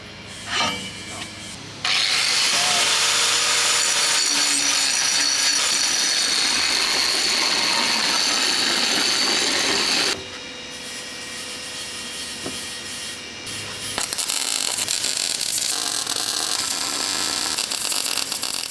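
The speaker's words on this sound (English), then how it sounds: "So I'm just going to quickly grind that paint off." Power grinder stripping paint off Panzer I tank parts in a fabrication workshop, a loud, high whining grind that runs steadily for about eight seconds, drops to a lower hum, then starts up again near the end.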